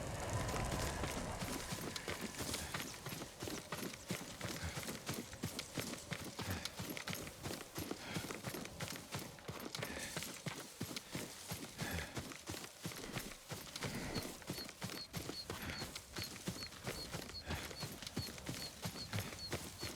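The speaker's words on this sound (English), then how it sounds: "Yuriko's horse. She can't be far." Horse hooves clip-clop steadily and briskly through the whole stretch in the Ghost of Tsushima Director's Cut game, a continuous close rhythm with no talk over it.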